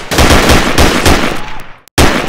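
An STG44 assault rifle fires rapid, loud, sustained automatic bursts at close range in the VR shooting game Gun Club VR, briefly cutting to silence before the fire resumes.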